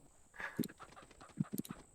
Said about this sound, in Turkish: Tavuk nerede tavuk?